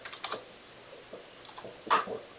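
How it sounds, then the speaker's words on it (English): Sparse, quiet typing on a computer keyboard, a few scattered key taps and one brief flurry near the end, with no talking. "My handwriting is horrible right now, so I'm just going to type it"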